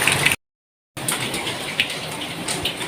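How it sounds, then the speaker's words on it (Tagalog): Steady rain hissing and pattering, with a brief dropout of total silence near the start before the downpour resumes. "medyo hindi tumitigil yung ulan, mahirap magluto"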